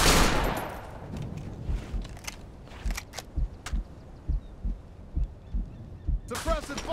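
Gunfire in the military shooter Operation Flashpoint: Dragon Rising, a steady string of sharp single shots and short bursts at moderate distance, with a brief rattle near the end.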